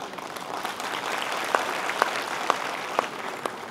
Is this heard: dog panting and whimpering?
no